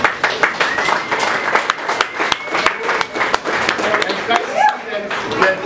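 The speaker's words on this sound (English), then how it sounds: "So let's give them a round of applause and say thank you." Audience applause at a pediatric cancer fundraiser for the Westchester Warriors, a steady wash of clapping from a crowd with a voice and tonal sounds mixed in over it.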